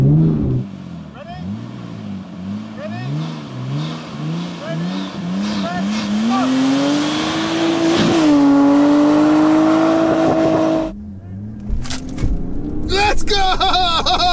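A Nissan R34 Skyline and a diesel BMW 530D race side by side, one engine revving hard and climbing steadily in pitch through the gears, loud and close, then cutting off abruptly before another brief burst of engine noise.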